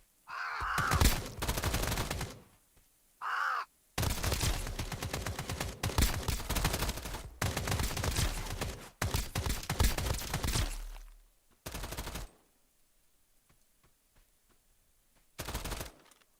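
Enemy gunfire in Escape from Duckov, in the warehouse area: long loud bursts of rapid automatic shots with short pauses between volleys, then a few final brief bursts after a quiet gap.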